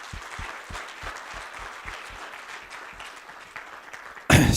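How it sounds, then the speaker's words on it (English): Conference audience at an Agile Lithuania event in Kaunas applauds the volunteers, a steady patter of many hands in a medium room that runs for several seconds before a sudden louder burst at the end. "let's give a great applause for those guys"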